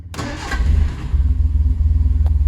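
A modified classic Triumph Standard 8 engine cranks briefly, catches and settles into a loud, lumpy, pulsing idle close by, with no choke and the fuel pump switched on.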